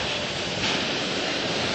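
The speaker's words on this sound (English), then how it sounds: "The sound suppression water system has been activated." Dense roaring rush of the sound suppression water system pouring onto a space shuttle launch pad moments before the STS-130 liftoff, a loud continuous broadband wash heard alone.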